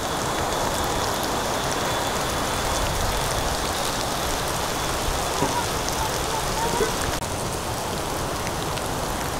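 Heavy rain pouring down with floodwater rushing around an old house, a dense, constant roar that stays loud and unbroken throughout.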